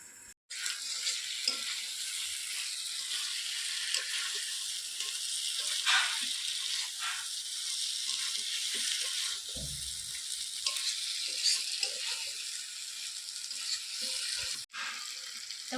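Chicken pieces sizzle and fry in oil with spices in a pan, a steady close crackle with occasional stirring scrapes and brief clatter, with no talking.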